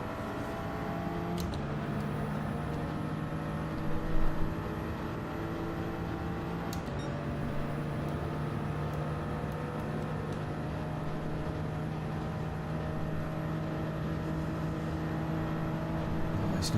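Race cars in Gran Turismo 7 lapping the Nurburgring at night, a steady sustained engine drone with a high whine holding throughout, pack of cars close together, no talking.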